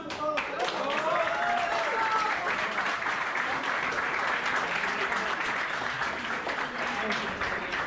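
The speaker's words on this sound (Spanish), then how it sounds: "Un aplauso a todos." Sustained audience applause fills a project launch event for a Tulum development, dense and steady throughout, with voices and crowd murmur mixed into the clapping.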